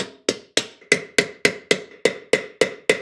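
Hammer pounding a rivet flat for a DIY camping griddle and sled, eleven sharp metallic blows in a quick, even rhythm, close and loud with ringing decay.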